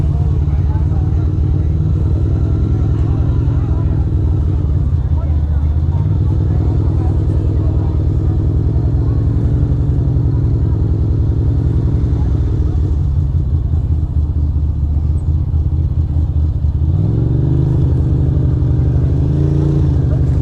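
Motorcycle engine rumbling steadily while riding through New York City traffic at night, a loud, close, low drone with wind buffeting and a few revs and gear changes, continuing without pause.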